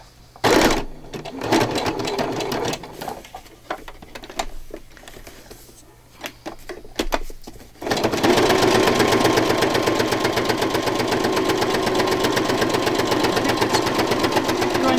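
A sewing machine stitching a page for a coffee and chocolate themed paper journal: after some quiet handling sounds, it starts up and runs in a fast, steady, loud mechanical rattle for the rest of the clip.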